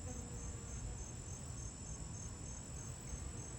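Dense, steady chirping of crickets and other insects on a summer day, a continuous high shimmering drone with a low rumble beneath, no voices.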